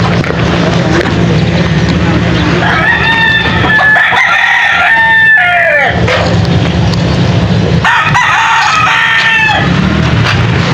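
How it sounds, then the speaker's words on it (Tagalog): Chickens cluck close by while a rooster crows loudly twice, long drawn-out calls, with murmured voices and outdoor noise underneath. "Dami nilang manok."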